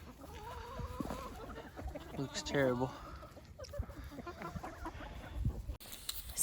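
Startled farm chickens, some molting in midwinter, cluck and squawk in bursts close by, mixed with a person's voice and shuffling noises around the coop.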